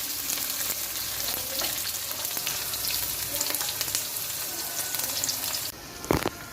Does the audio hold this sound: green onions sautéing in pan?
yes